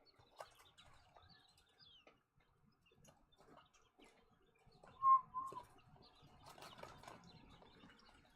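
Faint, sparse chirps from 29-day-old chicks in a quiet setting, with a brighter cluster of calls midway and scattered soft peeps and ticking sounds around them.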